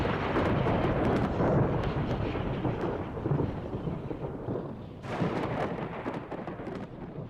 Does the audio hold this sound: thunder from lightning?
yes